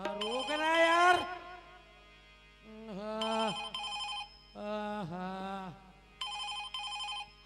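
An electronic telephone ringer trills in repeated bursts with short gaps, loud and close, while a voice talks over the first part.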